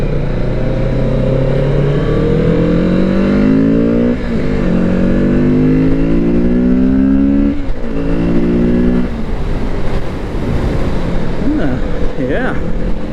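A Kawasaki Z650RS motorcycle engine hums steadily and revs up and down in smooth waves, close by, with a rider's voice talking over it.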